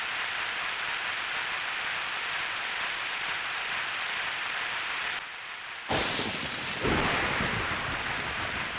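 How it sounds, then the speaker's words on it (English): Steady rain hisses in a Tactics Ogre: Let Us Cling Together–style game scene, a dense wash of noise that cuts out briefly before a loud thunder crack and rolling rumble return. "It's still raining."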